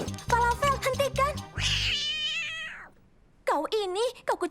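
A cartoon cat in a children's animated adventure meows in a string of voiced, pitch-bending cries, likely a voice imitating a cat, with other animated voices and a short lull between bursts.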